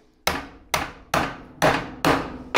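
Five loud, evenly spaced metallic hammer blows on a drift, tapping a part out of a fuel flap assembly on a Land Rover Defender L663 110, close up and ringing briefly after each strike with no talking.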